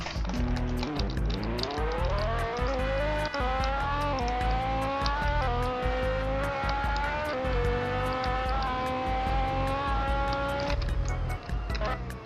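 A car engine in the video game Realistic Car Driving revs hard with short gear ratios, climbing in pitch through successive gear shifts with brief dips between, steady and loud throughout.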